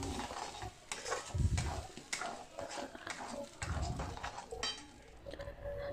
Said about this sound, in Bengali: দিয়ে এটাকে পুরো মশলাটাকে একটু ভালো করে নেড়ে চেড়ে নেব।